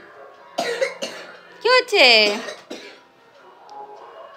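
A child coughs a couple of times at close range, rough and throaty, mixed in with brief bits of speech.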